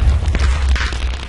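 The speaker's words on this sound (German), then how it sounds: "ein neuer TNT-Kopf. Und die explodiert." TNT blowing up in the Minecraft game, a deep booming blast with a rumbling low end that lingers briefly, loud and close.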